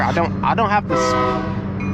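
A train horn blares over rumbling rail noise while someone talks close by.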